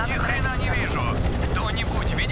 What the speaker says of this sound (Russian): Это вертолет Соло-8-1.